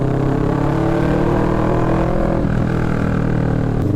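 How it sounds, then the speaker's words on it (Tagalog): A motorcycle with a starting problem idles steadily up close, its exhaust giving a continuous mid-pitched engine drone without heavy bass, loud and unbroken across the whole stretch. "Yung tunog ng tambuchi na to mid mid frequency"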